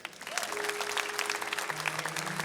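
A church congregation claps together in a steady, dense burst of applause. It sounds moderately distant and carries a faint sustained musical tone underneath.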